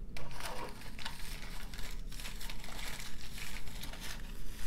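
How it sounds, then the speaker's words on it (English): A deck of tarot cards is shuffled close up, dense papery rustling and crinkling with quick riffs and slaps running continuously for several seconds, no voice. "let's go ahead and shuffle and see what comes out"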